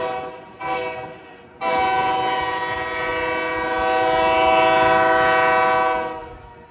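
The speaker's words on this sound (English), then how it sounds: "BNSF coal trains have become almost guaranteed to sport newer wide-cab GEVOs" BNSF coal train led by wide-cab GE locomotives, sounding a loud, close, sustained multi-note horn after two short opening blasts, with rumbling rail noise underneath.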